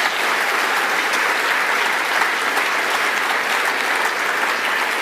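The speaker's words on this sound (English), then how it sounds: "A big round of applause" A large audience at a national awards ceremony gives a loud, sustained round of applause, dense and even throughout.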